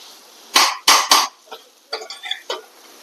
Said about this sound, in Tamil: இப்படி கலக்கிக்கிட்டு